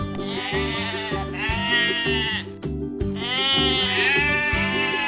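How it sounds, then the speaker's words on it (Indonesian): Two long, wavering goat bleats, loud and close, over a repeating musical backing. "kambing"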